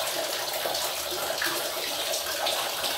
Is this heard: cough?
no